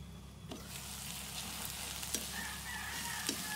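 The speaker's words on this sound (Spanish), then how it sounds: "Las tapo nuevamente y ahí las dejo hasta que esté bien frito el jitomate" Potatoes and tomato frying in a covered pan with oregano and salt, a soft steady sizzle with a few faint clicks, quiet and close with no talking.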